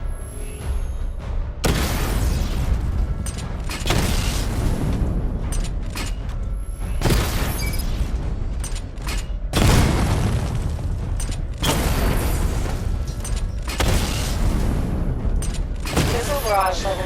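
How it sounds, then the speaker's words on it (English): Missile barrage firing from the Batmobile in Batman: Arkham Knight, repeated loud booming volleys with whooshing launches and mechanical clatter, arriving in bursts every two seconds or so. "Charge the missile barrage to level 2 to destroy up to 4 targets at once"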